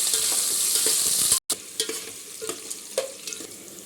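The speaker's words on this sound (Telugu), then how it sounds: "ఒకసారి మొత్తం కలుపుకుందాము." Onions, green chillies and whole garam masala frying in hot oil in a pan with a steady sizzle. A spoon stirs them with scraping knocks, and the sizzle drops out for a moment partway through.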